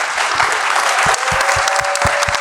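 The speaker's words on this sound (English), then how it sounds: "Let's give these people an amazing round of applause." Dense audience applause from a crowd, steady and loud throughout, with low rhythmic thumps beneath the clapping.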